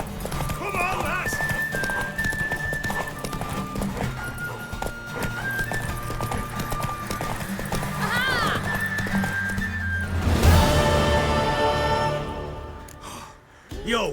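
Rapid hoofbeats of a galloping horse in The Witcher 3 video game pound steadily under music, followed by a loud whinny near the end.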